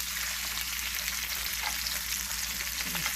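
Chicken fries in a cast iron skillet with a loud, steady, close sizzle that runs unbroken throughout, with no voices.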